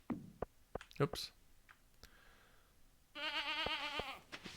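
A goat bleats in the farming video game Stardew Valley, a clear wavering cry near the end that follows scattered clicks and soft game sounds.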